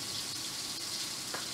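Food sizzling as it fries in a pan, likely cod or chicken steak in sauce at a Hong Kong set-meal cook-up: a steady, fairly soft, even hiss with no voices.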